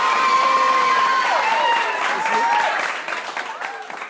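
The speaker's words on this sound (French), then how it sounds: "On applaudit aussi." Audience applause mixed with cheering and excited voices, loud at first and thinning toward the end.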